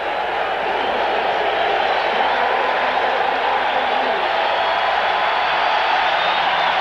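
Huge stadium crowd at a 1993 Braves vs Phillies baseball game, a dense, loud, continuous roar of many voices holding steady throughout, with a commentator talking over it.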